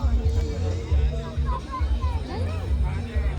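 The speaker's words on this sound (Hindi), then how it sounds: "आज बहुत ज़्यादा भीड़ लग रही थी, क्योंकि वीकेंड था" A crowd at the Bhojpal Mahotsav fair on a weekend: a constant murmur of many overlapping voices with nearby talk mixed in, busy and close.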